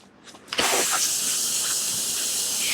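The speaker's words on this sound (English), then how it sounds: "Spray this water off with some, my favorite thing, brake cleaner" Aerosol brake cleaner sprayed onto a Briggs & Stratton Intek engine: after a couple of short taps, a loud continuous hissing blast starts and holds steady for about two seconds, close to the listener with no talking.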